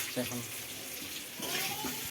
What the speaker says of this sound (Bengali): এটাতে পেঁয়াজ ভাজা হচ্ছে